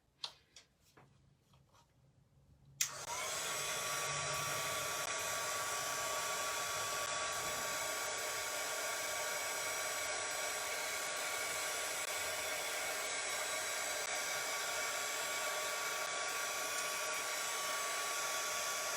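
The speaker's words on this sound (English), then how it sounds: "I'm just going to hit them with the heat tool real quick." A few faint taps, then a heat tool switches on and blows a steady, loud, continuous whoosh over craft tags, droning on without change for a long stretch.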